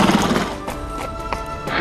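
A horse at full gallop gives a loud, close neigh, with hoofbeats rumbling beneath it as it races along.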